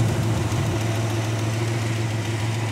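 A 1965 Ford Mustang coupe engine with a four-barrel carburetor runs at a steady low idle, rumbling close by with no talk, and it does not shut off within the clip.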